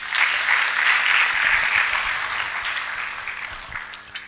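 A church gathering breaks into loud, dense applause that holds strong at first, then gradually thins and fades toward the end.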